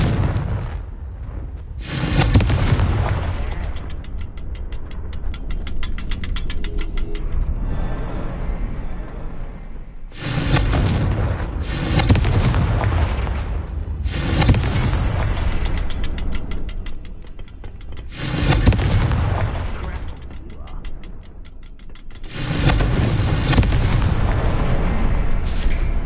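Spell blasts of the Confringo fire curse in a Harry Potter wizarding video game, a series of loud, dense booming explosions, each sustained for several seconds, separated by short gaps.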